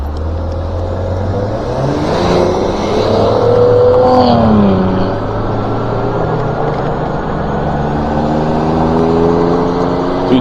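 Cars racing each other on a single-lane road, heard from an e-bike ride as engines rev and accelerate past, rising and falling in pitch over steady road and wind noise, with no talk.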